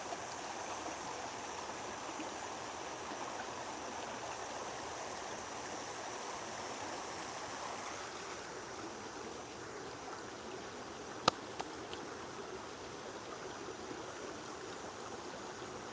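Water crashing against rocks in a stream, a steady broadband rush that runs unbroken throughout, with a faint insect-like drone in the background and one sharp click near the end.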